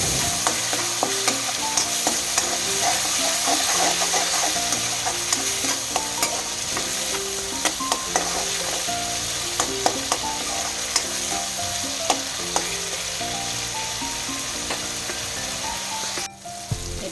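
Tomato paste sizzles with onion, ginger and garlic in a pan, a steady loud frying hiss broken by regular scraping strokes of a spoon, continuing without speech for the whole stretch.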